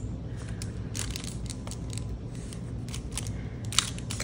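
Scissors cut through coffee-dyed paper in a series of crisp, close snips spaced irregularly over a soft background hum, with one sharp click near the end.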